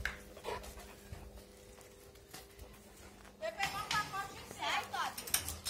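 Labrador dogs panting and moving about during a fetch game outdoors, with rhythmic breathy panting and scuffling close by, mixed with people talking and calling to them throughout.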